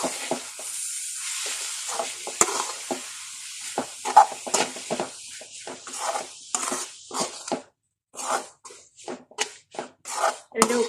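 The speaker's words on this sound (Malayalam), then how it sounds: "അതിലേക്ക് നമുക്ക് ഈ കൂന്തൽ അരിഞ്ഞു വെച്ചതും കൂടെ ചേർക്കാം." Chopped squid tossed into a pan of fried coconut masala, with steady stirring scrapes and utensil clinks against the pan over a soft sizzle, sounding close and in irregular bursts, with a brief pause near the end.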